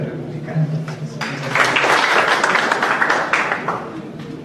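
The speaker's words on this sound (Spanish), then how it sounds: "y un aplauso" Applause from a university lecture audience of alumni, starting faintly and swelling into steady, dense clapping that fills most of the stretch at moderate loudness.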